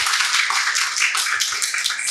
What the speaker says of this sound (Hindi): तालियां बजाते एक बार सब.